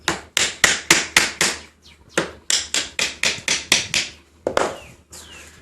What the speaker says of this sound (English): tap them in with my big fancy hammer